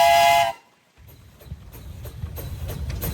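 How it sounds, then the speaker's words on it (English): A loud, shrill steam engine whistle blasts for half a second, cuts off abruptly, then gives way to a busy outdoor din of knocks and rumbling at a steam engine show. "How about a whistle, Ed"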